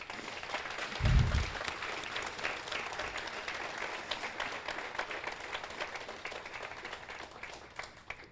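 Audience at a Veterans Day ceremony in Asheville, North Carolina breaks into sustained applause, a broad even clapping wash from a large outdoor-sounding crowd with a brief low thump early on, gradually thinning toward the end.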